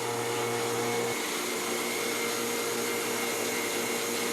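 A vacuum running steadily and loudly at close range, a constant broadband whoosh with a hum that drops slightly in pitch about a second in, no voices.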